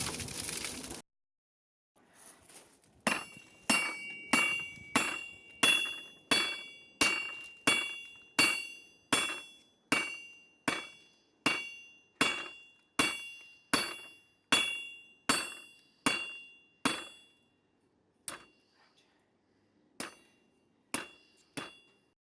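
Rhythmic hammer blows on a 1018 steel knife blade at the anvil, about twenty-five sharp ringing metallic strikes in a steady cadence with a few slower spaced hits at the end, close and loud.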